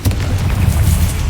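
Confringo spell blast in Hogwarts Legacy, a short muffled boom with a rumbling low-end burst that sustains briefly, loud and close.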